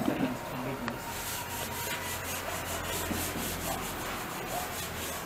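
Sandpaper rubbing over pine table legs, a steady scratchy hiss running the whole time at moderate distance, with faint background murmur but no clear talk.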